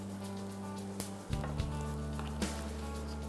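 Shrimp sizzling on a grill give off a faint, steady crackling hiss, with a few soft clicks and pops over a low background hum.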